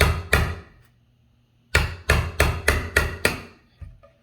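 A chisel cuts out wood for a door hinge recess, struck with sharp, loud blows: two quick hits, a pause, then a rapid run of six strikes and a fainter final tap.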